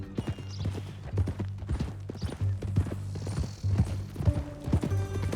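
Horse hooves clip-clopping steadily on ground in Red Dead Redemption 2, close and rhythmic, with creaking tack and a faint mechanical whir beneath.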